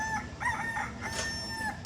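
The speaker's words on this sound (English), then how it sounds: "you might even get some rooster crows out of it if all be well" A rooster crows in a garage-like setting while valve spring geometry work goes on nearby; several clear, drawn-out crows with harmonic wavering rise over steady low background noise, fairly close and loud, with no talk.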